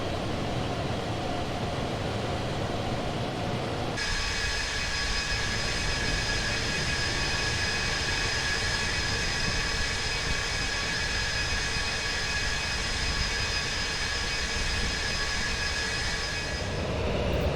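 Avro Vulcan jet bomber landing at Doncaster in X-Plane 11, a loud steady engine roar with a whining high tone that cuts in sharply after a few seconds and holds until near the end, no voices.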